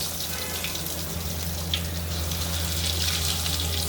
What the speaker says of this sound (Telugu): ఈ విధంగా వేసుకొని ఫ్రై చేసుకోవాలి.